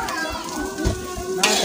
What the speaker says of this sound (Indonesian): Masukin tomatnya ya, goreng nyampe harum nyampe wangi ya teman-teman.